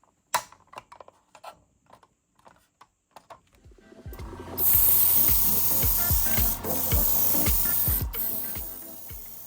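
Black primer sprayed from an aerosol can onto a miniature model Chevy S-10 lowrider truck: quiet clicks and handling taps first, then a loud continuous hiss of spray bursts up close.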